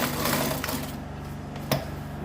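A sewing machine stitches a tote bag, its motor humming in a fast, even run that quiets partway through with a brief knock, heard close and fairly faint.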